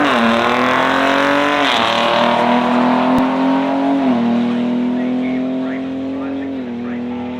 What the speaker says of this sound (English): Why has no one ever told me drag racing was so much fun?